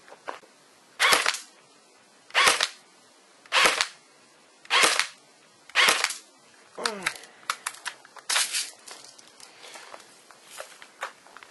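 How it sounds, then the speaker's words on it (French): A Jing Gong JG 069 MP5 airsoft gun fires BBs at a target about ten metres away, five sharp, evenly spaced shots, followed by softer clicking and handling taps. "on est parti pour envoyer 5 billes sur la cible"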